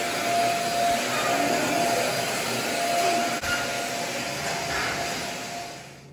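A vacuum cleaner runs steadily in a winter garden beside a vertical garden, a loud continuous whining drone that holds for the whole stretch and fades slightly at the end.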